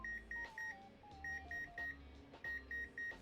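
A study timer alarm beeps in repeated bursts of four short, high-pitched tones, three groups in a row, fairly quiet and clear against a soft background.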